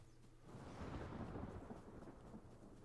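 Rain and a low rolling thunder rumble in the game Ghost of Tsushima, a broad swell of grumbling thunder building over steady rainfall, faint and distant with no voices.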